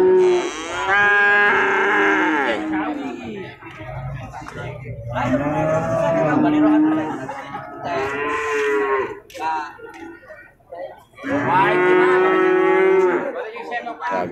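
Simmental calves and cattle at a busy Singosari cattle market moo repeatedly, several long, loud, harmonic calls one after another, close by.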